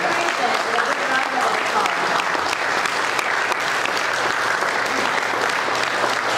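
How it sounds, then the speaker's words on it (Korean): A large audience at an anniversary ceremony gives a big, sustained round of applause for foreign missionaries, with dense clapping holding steady throughout and a faint voice underneath. "그들을 위해서 큰 박수로"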